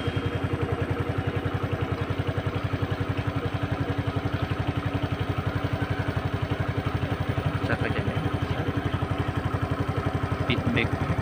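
A fuel-injected motorcycle engine idles steadily nearby, a regular rapid mechanical pulse with a faint clatter, running without letup and with no talk over it.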